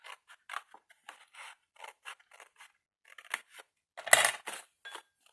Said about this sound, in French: vous allez couper ici tout droit. Jusqu'au pli.